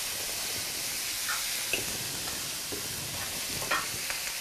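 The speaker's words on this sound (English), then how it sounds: "little bit of each one and stir these up, these noodles" At a Japan festival food stall, noodles are stirred through sauces, making faint wet scraping and sizzling sounds over a constant hissy background, with no voices.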